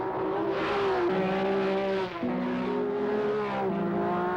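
A Porsche 935 race car roars at full speed down a racing straightaway, its loud sustained engine note holding steady with brief dips and shifts in pitch, close and continuous throughout.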